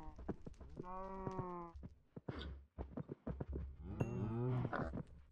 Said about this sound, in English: Cows are noisy. They're noisier than the pigs by a long way.